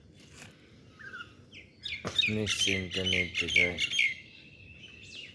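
Myna birds calling in a large tree in the morning, a burst of several harsh, squawky chattering notes close by after a quieter start, with a voice speaking briefly.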